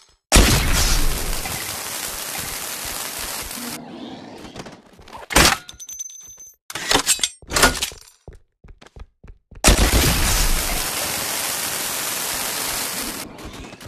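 Video game explosions: loud broadband blasts open and close the stretch, with several sharp booming thuds between them and quieter gaps, with no voices.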